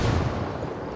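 A frag grenade detonates in Ghost Recon Wildlands, a tactical shooter game: a loud, broad, rumbling blast that fills the whole second without talk.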